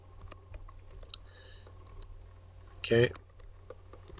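Typing on a computer keyboard during CAD drafting: scattered light key clicks, then a short dense burst of rapid keystrokes, close by, with brief speech around it.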